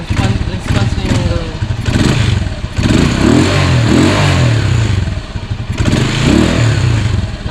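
An old motorcycle engine, freshly repaired and reconditioned, revving close and loud in repeated bursts that rise and fall, with clattering and someone speaking between and over the revs.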